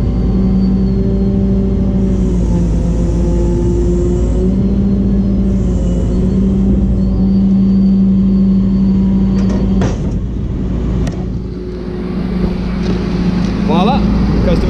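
A flatbed wrecker truck reverses slowly under a vehicle, its diesel engine droning loud and steady with low rumble, a brief dip in revs, and a few clanks and mechanical knocks near the end.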